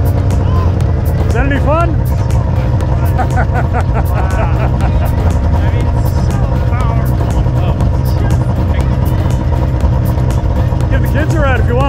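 Snowmobile engines run steadily on a snowmobile trail, a loud, continuous motor drone with pitch rising and falling as machines rev, while people talk over it.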